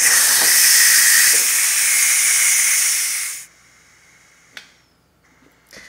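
Ninja Foodi pressure cooker venting steam after cooking mac and cheese, a loud, harsh hiss for about three seconds that stops suddenly, followed by a couple of faint clicks and knocks.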